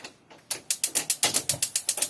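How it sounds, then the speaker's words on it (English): A gas stove's igniter clicks about ten times in a steady, rapid run, close and fairly loud, as the burner under a pot with Japanese Hakutsuru sake is lit. No one speaks. "Turn on the stove and heat it up."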